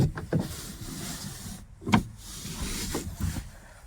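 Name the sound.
car power window motor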